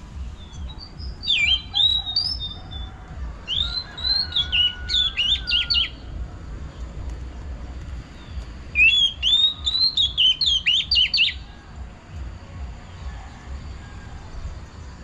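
Oriental magpie-robin singing from a tree, two bursts of bright, varied whistled phrases a few seconds apart, clear and fairly close over a low rumbling background.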